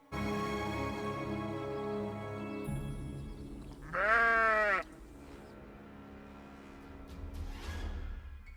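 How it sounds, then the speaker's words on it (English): Animated sheepdog bleating like a sheep on a hillside, one loud wavering bleat rising over steady background music and ambience. "the sheepdog looks on from a hillside and suddenly bleats like a sheep"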